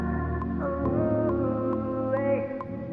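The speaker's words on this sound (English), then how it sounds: "Then I added this droney pad," A droney synth pad drifts through an R&B production of sustained tones, layered with light plucked accents that repeat at a steady pulse; the mix is continuous and moderately loud, with no voices.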